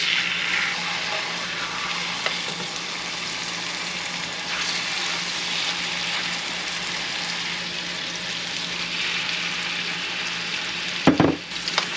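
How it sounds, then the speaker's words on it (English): Steady, loud sizzling of unseasoned chicken breasts searing in a hot pan, continuous throughout with a brief clatter near the end. "we're gonna sear them on both sides. Let's get to some sizzling action."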